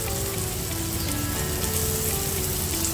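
Spices and ground chilli with asafoetida frying in hot oil, a dense, continuous close sizzle heard alone and steady for the whole moment.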